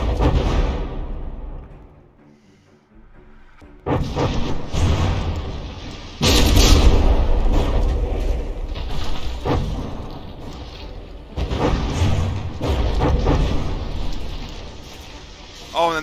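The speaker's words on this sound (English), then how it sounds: "that's just a nasty volley there, but most of them going over the deck" Battleships trade fire in a From the Depths tournament, with heavy gun volleys and shell impacts booming in repeated bursts and rumbling over a loud roar, while someone talks over the action.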